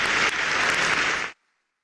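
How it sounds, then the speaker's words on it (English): Audience applause at a live televised special edition event in Ghana, a dense burst of clapping from a crowd that runs steadily for over a second and then cuts off abruptly into silence. "Please show some love with a round of applause."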